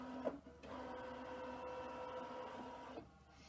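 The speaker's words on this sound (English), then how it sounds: "your hoop's gonna move because it detected the embroidery unit" An embroidery machine moves its hoop on startup after detecting the embroidery unit: a soft, steady motorized whir lasting a few seconds, bracketed by faint clicks, quiet and close, with no talking.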